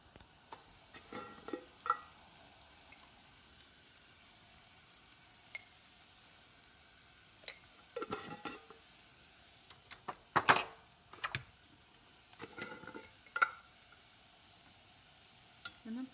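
Tender amaranth stems fry with moong dal in a pan, a faint steady sizzle with scattered scraping and clinking strokes of a spatula as the mixture is turned, quiet and close.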